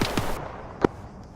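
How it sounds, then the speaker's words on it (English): Sharp reports of gunfire during a military integrated training exercise: a few quick shots at the start, then one distinct louder crack near the end, carried over a steady outdoor background with no talking. "Where's the shooting coming from?"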